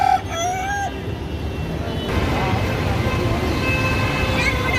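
Chickens and a rooster at a countryside poultry market selling native hens, with a rooster crowing close by at the start over steady clucking and busy market background noise.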